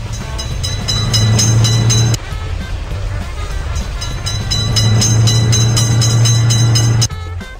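A cartoon train rolls past a railway crossing in a children's video game, a steady loud rumble with a low drone that swells, dips briefly and swells again before cutting off abruptly near the end.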